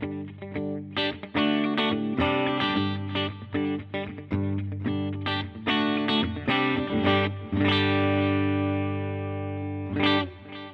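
Electric guitar played through a Fender Tone Master Pro amp modeler with a subtle delay, loud and close, with rhythmic strummed chords and single notes trailing soft repeats, no voices.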